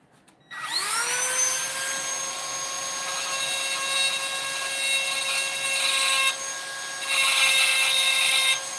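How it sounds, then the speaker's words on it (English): A tungsten grinding bit spins up and then grinds steadily into hard carbon steel, producing a loud, sustained, high-pitched whine with a harsh gritty edge that shifts slightly in tone partway through. "I'm gonna have to use a grinding blade instead"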